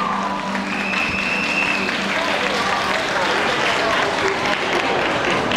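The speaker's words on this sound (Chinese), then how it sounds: "掌声欢迎第二十号的兄弟，你获得我们客家组的冠军" A crowd at a Hakka and Hokkien singing competition grand final in a shopping centre breaks into sustained, dense applause for the winner, steady throughout, with a voice speaking briefly over it.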